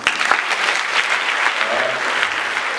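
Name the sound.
audience applause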